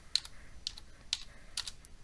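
Someone types on a computer keyboard: four or five light, quick key clicks, close and isolated, over a quiet background.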